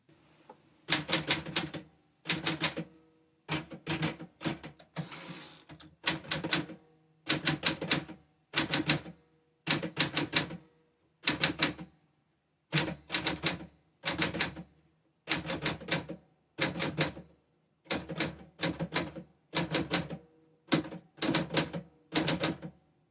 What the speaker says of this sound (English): the rhythm of the typing, the sound of the machine, the strike of the key slugs